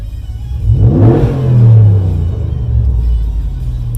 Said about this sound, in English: so we can kind of give it a good rev while driving in park